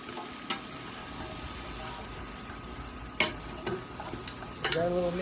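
Potatoes and carrots stirred in a pot of one-pot Japanese chicken curry: faint scraping and clicks of a utensil against the pot over a low sizzling background, with a few sharper knocks toward the end.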